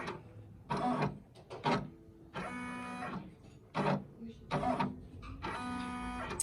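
A 10-needle embroidery machine traces its stitch field in short bursts of whirring, buzzing motor movement, each run stopping and starting with small clicks, close and clear.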